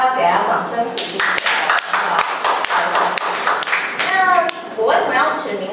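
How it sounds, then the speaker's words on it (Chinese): An audience at a Kaohsiung talk event about travel in Africa claps for someone who guessed correctly; scattered, uneven hand claps from a modest crowd, with people talking over and around them. "大家要给他掌声鼓励"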